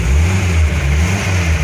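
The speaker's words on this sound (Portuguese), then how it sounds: "Tá acelerando, ó." A Ford F-75 engine revving steadily, a loud, continuous low mechanical drone held close up for under two seconds with no talk over it.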